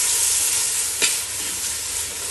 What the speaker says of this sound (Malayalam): ഇനി ഇതൊന്ന് ഇളക്കി കൊടുക്കുക